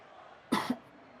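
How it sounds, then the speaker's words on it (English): A single short cough, two quick barks close together, near and fairly sharp against a quiet background. "not dabbing, just coughing."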